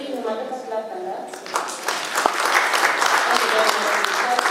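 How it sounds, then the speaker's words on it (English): Applause breaks out from an audience at a conference presentation, following a voice and swelling into steady, dense clapping that carries on to the end. "Can we give him another clap on that?"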